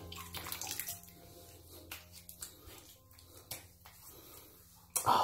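Water splashes and runs as a face is rinsed after a straight razor shave, with intermittent close splashing and trickling, fairly quiet, ending in a sharper louder splash.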